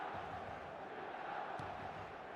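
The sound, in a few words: stadium crowd noise in eFootball 2026 video game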